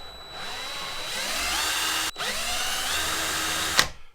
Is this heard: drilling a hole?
yes